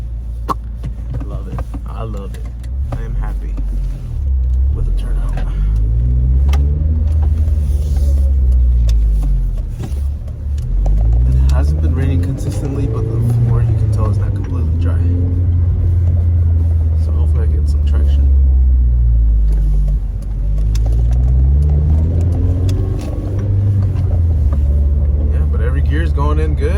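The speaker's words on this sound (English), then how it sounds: "But all the gears go in like butter." A Honda Civic Si drives along with a steady, loud engine drone, its pitch rising and dropping in repeated sweeps as it shifts through the gears, with a voice talking over it throughout.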